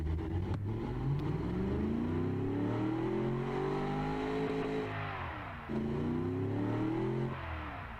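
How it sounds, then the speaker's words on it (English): A 1970s supercar engine revs in the Automation car-building game, a loud continuous roar that climbs in pitch, briefly dips and rises again, then settles, with no talking over it. "let's rev it and see how it sounds."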